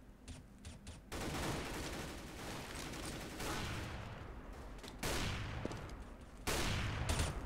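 Sustained gunfire in Overwatch, long continuous bursts of rapid fire broken by short gaps, fairly quiet and steady, no talking.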